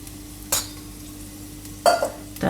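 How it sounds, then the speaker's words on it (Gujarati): A little water mixed with red chili powder, ground coriander-cumin and turmeric being stirred in a pan, heard as a few short, close scraping strokes over a quiet background with pauses between. "તો આને આપણે થોડુંક પાણી નાખીને મિક્સ કરી લેવું."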